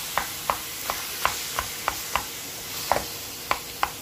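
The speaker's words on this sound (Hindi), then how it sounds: "मैं अब ये हलवा बनाऊंगी" Halwa cooking in a pan, stirred with a spoon that knocks against the metal in about a dozen sharp, evenly spaced clinks, close and clear over a faint background, no talking.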